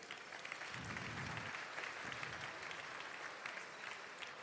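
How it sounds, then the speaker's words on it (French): Applause from the audience at an anniversary convention, a steady wash of many hands clapping that carries on throughout, with a faint low murmur under it. "Il y avait Patrick Poivre d'Arvor, vous pouvez l'applaudir."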